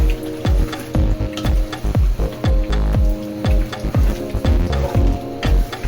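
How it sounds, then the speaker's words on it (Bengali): Mango and naga chili pickle with jaggery is stirred in a pan, a utensil scraping and knocking in a steady rhythm of close, loud, repeated strokes with no talking. "গুড়টা দেওয়ার পরে খুব ভালোভাবে নেড়ে দিতে হবে।"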